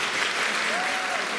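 Stormy applause from a gala concert audience celebrating songs of Moscow's Eastern Administrative District: a dense, loud, continuous wash of clapping that fills the whole stretch without pause.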